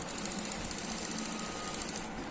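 A sewing machine stitches a simple suit fabric with a continuous, fast mechanical whir and rapid even ticking of the needle, close and steady throughout without talk.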